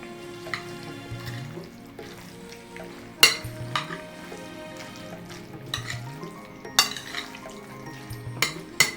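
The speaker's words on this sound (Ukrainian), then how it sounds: "Гарненько перемішуємо." A utensil scrapes and clinks around a bowl as a beetroot and mayonnaise salad is mixed, with irregular soft clatters and a few sharper knocks over quiet background music.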